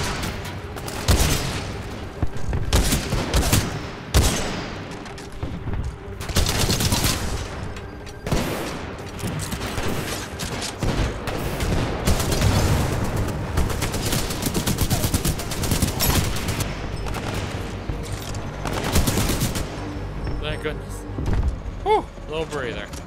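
Gunfire in the video game Titanfall 2, repeated bursts of rapid shots with occasional heavier booms, loud and persistent, while a voice talks over much of the action.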